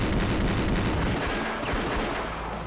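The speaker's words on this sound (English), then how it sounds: "However, the enemy gunfire was fierce." Gunfire in the visual novel Rose Guns Days crackles as a dense, rapid burst of shots, loud and continuous with a slight rumble beneath, heard alone without voices.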